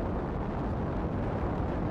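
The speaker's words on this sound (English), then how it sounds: "Artillery strike activated." An artillery strike explodes in a video game, heard as a dense, roaring blast rumble that fills the whole short stretch at a steady loud level with no talking.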